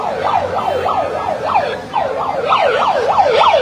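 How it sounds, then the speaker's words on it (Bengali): An ambulance siren wails loudly and close by amid a crowd, its rapid rising and falling yelp repeating continuously with a brief break midway. "সাইরেন বাজিও পাবলিককে সরানো যাচ্ছে না।"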